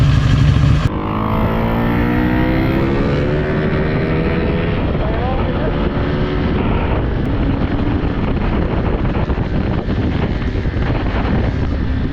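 Loud, continuous road and wind roar from a motorcycle riding toward Batangas, Philippines, with engine tones shifting as speed changes.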